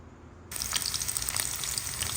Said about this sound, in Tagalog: Nauna na po ang ating bawang at ating luya. Igigisa ko lang po siya.